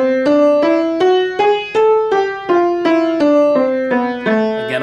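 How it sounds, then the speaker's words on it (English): Piano notes step up and back down a melodic minor scale at a brisk, even pace, each tone sounding clearly and alone. "now I'm going to play the melodic minor scale"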